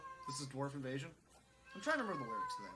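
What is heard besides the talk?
pet cat meowing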